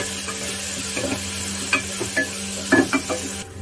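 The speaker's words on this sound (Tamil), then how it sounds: "இப்படிலாம் பச்சை வாசனை போகிற வரைக்கும் நம்ம வதக்கி எடுத்துட்டு போகிறோம்." Ginger garlic paste sautés in a hot pan with a steady sizzle, broken by scraping and tapping from a stirring spatula, close and alone with no talk.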